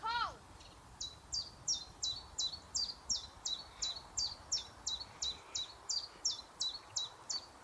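A bird singing up in the trees on an outdoor nature walk, repeating a clear, sharp two-part chirping phrase in a quick steady rhythm, fairly distant over faint outdoor background noise.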